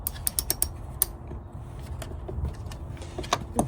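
Wrench loosening the battery terminal nut on a 2012-2015 Honda Civic, a series of close ratcheting clicks and metallic creaks in short uneven bursts, no talking.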